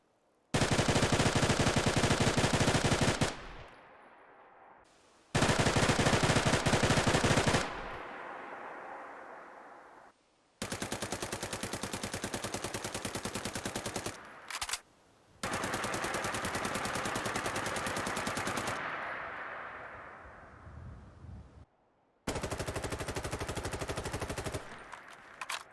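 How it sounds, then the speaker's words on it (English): Loud gunfire bursts from a video game with a reverb and ambience overhaul mod, several separate volleys each trailing off into a long echoing tail before the next starts, with no talk. "It will make gunshots create echo."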